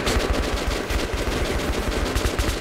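Rapid, evenly spaced mechanical shots from a nail gun in Metro 2033 Redux, a loud continuous burst of sharp thumping reports with no talk.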